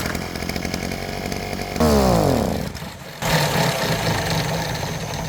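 A gasoline brush cutter engine is pulled into life and revs loudly, briefly sweeping up and down in pitch before settling into a steady, close, buzzing run.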